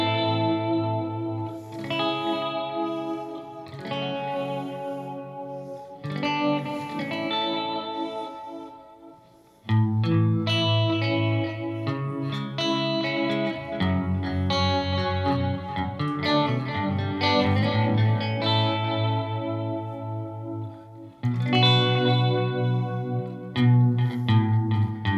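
Squire Jazzmaster electric guitar played through a stereo amp with effects, a steady run of chords and notes swimming in chorus, echo and a touch of distortion, loud and close with no talking.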